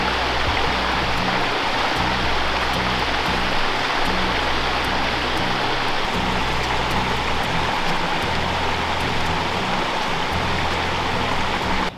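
A constant roar of rushing water from a waterfall flowing toward Lake Rabun, loud and unbroken with a low rumble underneath and no talking.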